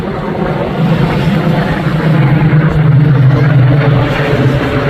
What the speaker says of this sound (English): A lovely performance by two venerable aircraft.